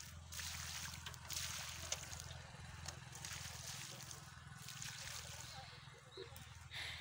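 Water poured from a bucket onto garden plants such as okra and brinjal, a steady close trickling and splashing running throughout with faint background voices.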